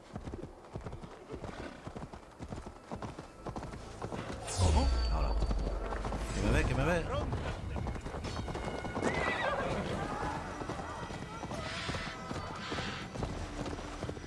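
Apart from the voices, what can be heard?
horse galloping in the video game Assassin's Creed Valhalla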